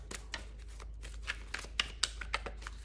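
A deck of tarot cards is shuffled by hand, a run of quick riffling flutters and soft slaps close up over a low background hum.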